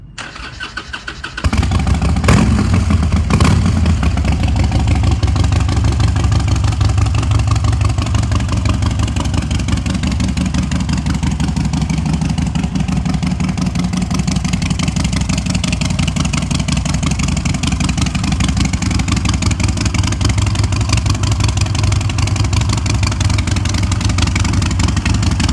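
A customised Harley-Davidson 72 motorcycle engine cranks briefly, catches and starts, then settles into a loud, steady, rumbling idle that continues unbroken at close range.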